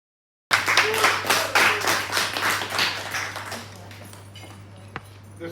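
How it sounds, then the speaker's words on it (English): An audience at a hotel open mic night breaks into close, lively clapping that starts abruptly and slowly thins out, with voices faintly under it. "That's a round of applause for Peter."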